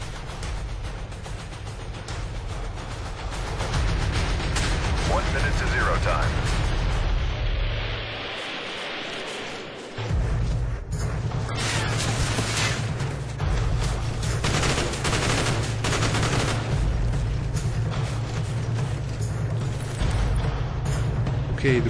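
Sustained, dense rattling gunfire in Call of Duty Black Ops, a continuous mechanical clatter of rapid shots over a low rumbling bed, briefly dropping out midway before resuming, with voices faintly present.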